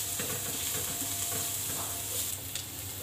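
Chopped onion sautéing in oil in a wok makes a steady, close sizzle with light scraping from stirring throughout, with no talk.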